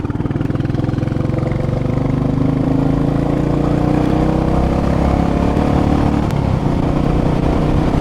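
A Royal Enfield Meteor 350 single-cylinder motorcycle on the move, its engine a loud, steady, thumping putter close up, with a slight rise in pitch partway through and no speech.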